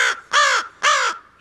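A rescued pet bird kept with others in a home aviary gives two loud, harsh caws close by, each about a quarter second long, separated by a brief pause, with no one speaking.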